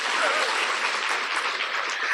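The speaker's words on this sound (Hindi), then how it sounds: "ताली तो बजाओ।" An audience claps together in dense, continuous applause, loud and close, a steady wash of hand claps with no pause for the full stretch.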